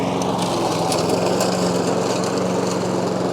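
A lawn mower engine drones loudly and constantly while cutting broom on a farm in Portugal, a steady high buzzing close by with no pauses.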